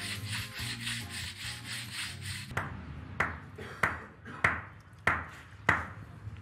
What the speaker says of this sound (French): vont surfacer une partie du bloc sur 4-5 cm d'épaisseur avec des boules de dolérite